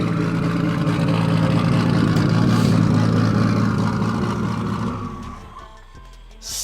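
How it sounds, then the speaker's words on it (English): A very fast turbocharged car pulls hard under acceleration, its engine roaring loud and steady from inside the cabin before easing off near the end as the turbo keeps spooling. "Your turbo's still spooling."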